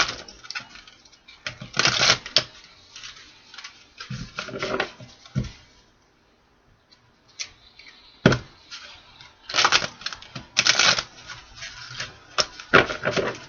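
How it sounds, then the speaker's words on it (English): Tarot cards are shuffled by hand in short bursts of crisp riffling and tapping, close and fairly quiet, with brief pauses between the bursts. "Two more shuffles, Spirit."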